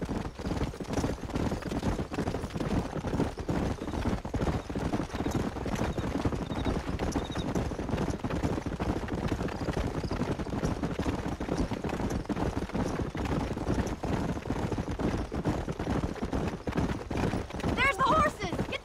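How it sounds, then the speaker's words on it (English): Galloping horses in the Western video game Red Dead Redemption, a continuous dense clatter of hooves with dialogue spoken over it throughout. "There's the horses!"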